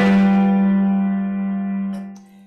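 A G seven chord sounds once and sustains, fading gradually over about two seconds, with a couple of faint clicks just before the end and no speech.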